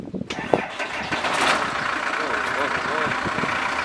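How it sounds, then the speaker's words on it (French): A camper van's engine cranks and catches, then settles into a steady running rumble, close and fairly loud, with people talking over it. "on va essayer de démarrer le camping-car"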